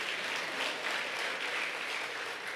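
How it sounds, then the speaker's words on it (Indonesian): Church congregation applauding during a sermon, a soft, steady patter of many hands clapping at some distance, with no voices over it. "Ini tepuk tangan yang tidak pernah saya duga ini."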